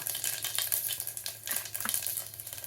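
Cumin seeds and black peppercorns crackle and sizzle in a spoonful or two of hot oil inside a pressure cooker, a close, steady frying hiss with small popping bursts and a faint metallic clink, no voices.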